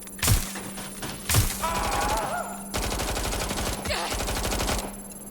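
Automatic gunfire in Watch Dogs Legion, with two sharp single shots followed by long rapid bursts, close and loud, over a steady background hum.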